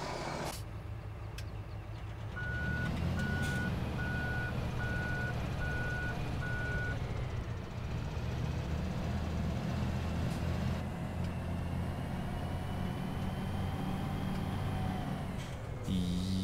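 Claas Xerion 4000–5000 third-generation tractor in a Farming Simulator 17 mod, its engine starting after about two seconds and then idling steadily and loudly, with a beeping alert sounding alongside for several seconds.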